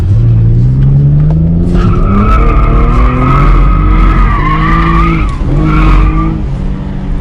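An automatic V6 Camaro drifts around a track, its tires skidding and squealing in long loud wails over a steady roaring engine that rises and falls in pitch, with no talking.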